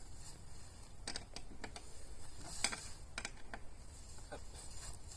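Key turning in the locks of a Go Overland Expedition roof tent, giving a scattered run of small metallic clicks and ratcheting ticks over a low steady background hum.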